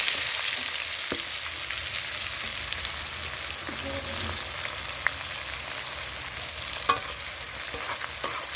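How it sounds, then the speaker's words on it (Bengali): Chopped onions frying in oil left over from fried potatoes while being stirred, a dense, even close-up sizzle with a few scattered clicks of the spatula. "দেখো পেঁয়াজগুলো তেলের ওপর দিলাম।"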